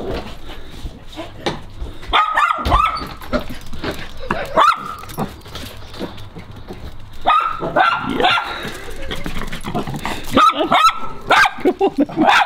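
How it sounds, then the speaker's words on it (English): Several dogs bark indoors in a house, with sharp repeated barks, yips and some whimpering coming in bursts across the clip, loud and close, with a person talking at times in between. "No barking in this house."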